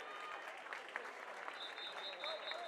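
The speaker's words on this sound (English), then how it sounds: "Let's give a nice round of applause for all of our women in the 400 IM." Faint, distant applause from spectators at an international senior swim meet, greeting the women's 400 IM swimmers, rings through a reverberant pool hall as a steady patter with some talk mixed in.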